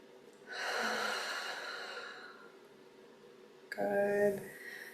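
A person takes one slow, full breath during a calm somatics exercise. The long soft inhale is close and quiet, and a shorter, breathier exhale follows near the end.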